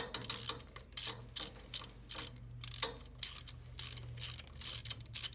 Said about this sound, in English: Next, I'm going to take out the two bracket bolts that holds the ignition coil in.